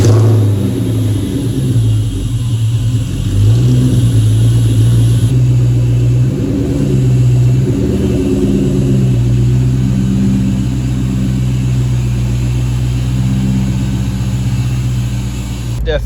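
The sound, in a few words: car driving with new McLeod RXT twin disk clutch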